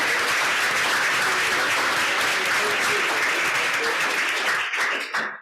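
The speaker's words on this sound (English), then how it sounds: "A last round of applause for the excellent presentation from all of our speakers." Conference audience applauding speakers after a presentation session on the future of work, a loud, dense, sustained round of clapping that tapers off at the end.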